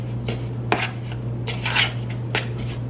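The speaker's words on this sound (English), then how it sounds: "I'm just gonna mix what we have right now, so it's like this, together" Dry ingredients for peppermint mocha banana bread are stirred together in a bowl, producing scattered scraping and light clinks of utensil against the bowl over a low steady hum.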